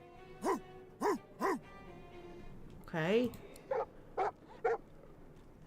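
A dog in the video game Divinity Original Sin 2 gives three short barks, then a longer rising yelp, then three more quick barks, fairly close and clear, with a player briefly speaking.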